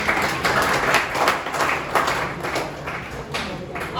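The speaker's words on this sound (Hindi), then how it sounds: "बहुत इनके लिए भी जबरदस्त ताली बजाइए भाई" Seminar audience at a Patna coaching institute clapping for a student, a dense, continuous patter of many hands with voices talking over it.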